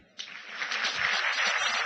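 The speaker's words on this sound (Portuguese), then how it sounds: "Vamos aplaudir." A church congregation breaks into applause that starts abruptly and stays as a steady, dense wash of many hands clapping. No voices come through over it.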